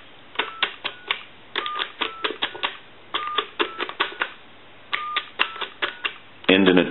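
Keys are pressed on a PTT telephone converted to touchtone, a rapid series of sharp clicks with short tones in irregular bursts, ending in a louder clatter.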